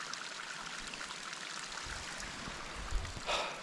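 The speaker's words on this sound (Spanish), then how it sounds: "empezaron a salir cascadas de todos lados" Waterfalls pour down the slopes of snowy Pico Humboldt, a steady broadband rush of falling water close by, with a few brief louder splashes and a spray-like surge near the end, no voices.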